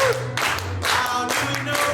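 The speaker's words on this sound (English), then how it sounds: "Can we hear the clapping get loud?" An audience claps in a steady rhythmic beat, the bursts of claps coming in time with chanting voices from the crowd.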